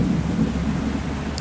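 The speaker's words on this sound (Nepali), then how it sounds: "यो चट्याङ त रेल जस्तै पर्छ क्या। हेर्नु न चट्याङ गड्याङ" Thunder rumbling with rain in the Indonesian bus driving game Bus Simulator Indonesia, a brief low, dull roll at moderate level with steady rainfall underneath.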